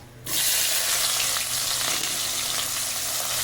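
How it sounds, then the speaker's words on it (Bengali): Chopped onions hit hot mustard oil already tempered with bay leaf and dried red chilli for a spicy mutton curry, bursting into a loud, steady, close sizzle after a brief quiet start and holding strong throughout. "পেঁয়াজটা খুব ভালো করে লাল লাল করে ভেজে নেব"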